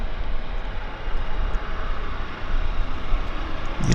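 A United airliner departs Vancouver bound for San Francisco, its jet engines a steady broadband roar heard at a distance and holding level throughout, with a brief louder low burst right at the end.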